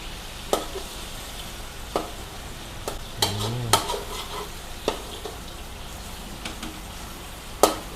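Egg frying in oil in a wok for Pad Thai gives a continuous sizzle, with sharp metal spatula knocks every second or so and a brief scraping stir in the middle; close and fairly loud, with no voices.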